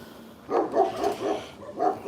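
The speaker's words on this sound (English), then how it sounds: "It's a noisy dog area." A dog in a Russian village barks a series of sharp, moderately loud yips and woofs in quick succession, a short burst followed by a pause and one more bark, fairly near.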